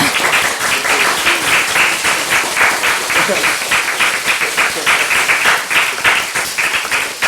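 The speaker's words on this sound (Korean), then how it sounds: "한 번만 더 박수 부탁드립니다." Applause fills the hall at a Democratic Party recruitment ceremony in Korea, sustained, even clapping from a sizable crowd with no pause throughout, loud and close.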